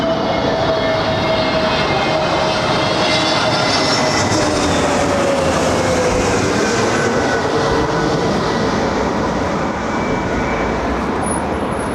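An Airbus A350 ultra long range airliner with an extra fuel tank roars steadily at London Heathrow, a loud, continuous jet engine rumble with a slowly falling whine held throughout, no voices.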